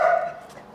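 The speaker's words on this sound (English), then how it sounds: "Oh, be quiet, dog." Dog barking outdoors in a yard, a single short muffled bark fading quickly, fairly loud against a quiet background.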